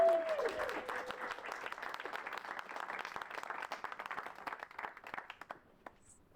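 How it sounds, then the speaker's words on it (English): Audience applause at the Berkeley City Council inauguration, a dense burst of many hands clapping that starts full and slowly thins out over several seconds, with no talking over it. "applause."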